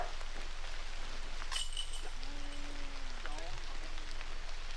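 Rain falls steadily on a disc golf course during a tournament round, a constant hiss of drops on the ground and leaves, with a faint tonal whistle partway through.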